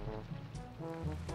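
Soft, steady rain from the Minecraft world patters in a quiet, continuous hiss, fairly faint and unbroken, with low tonal game sounds underneath and no speech.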